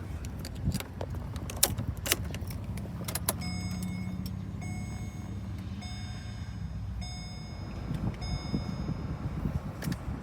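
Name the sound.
car keys jangling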